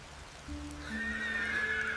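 A horse whinnies once, a clear rising neigh that starts half a second in and stretches to the end, set against a soft hiss of rain with no voices.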